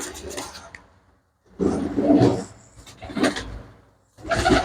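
Pigeons kept for kabootarbazi giving low, soft cooing calls in three or four short bursts with quiet gaps between them, heard up close.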